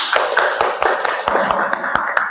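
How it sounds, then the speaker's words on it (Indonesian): A class of students claps by hand in a science lesson on a balloon inflated by vinegar and baking soda gas, the sharp, uneven claps close and fairly loud for a couple of seconds. "Beri tepuk tangan."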